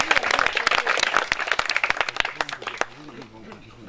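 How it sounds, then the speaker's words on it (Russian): Audience applauding at a boxing master class run by a world boxing champion in Morskoye, Crimea, a burst of close, dense clapping that thins out toward the end, with voices speaking over it. "Давайте похлопаем."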